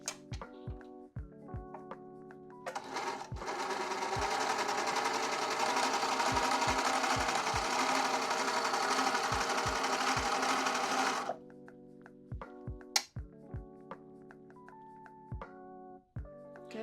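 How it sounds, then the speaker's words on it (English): An overlocker sewing machine stitches through scrap fabric, a loud, steady whirring hum that runs for about eight seconds, framed by scattered clicks and taps of handling before and after. "I need a piece of scrap fabric to test the overlocker"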